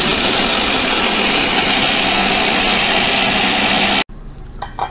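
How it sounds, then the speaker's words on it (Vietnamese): A kitchen blender grinds herb roots into small pieces with a steady, loud, close mechanical whir. The motor shuts off abruptly near the end, leaving quieter room sound. "chúng ta cho vào máy xay và xay"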